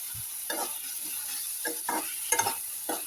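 Coriander and mint leaves frying in hot oil for a pudina and coconut chutney, with a continuous sizzle and several separate scraping stirs of the pan, close and clear with no talk.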